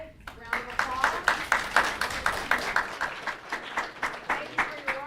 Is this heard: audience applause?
yes